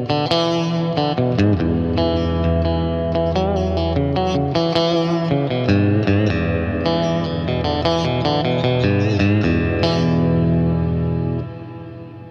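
A heavily reverberant guitar plays chords and notes with a full, boomy low end, the long wash of reverb ringing out before fading at the end.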